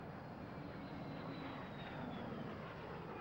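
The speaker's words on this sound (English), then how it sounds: "Vampire, one of the early British jets." A de Havilland Vampire, an early British jet, flies past at the 1999 Royal International Air Tattoo air show with a steady, broad jet roar and a faint whine that slowly bends in pitch as it passes, heard from a distance with no speech.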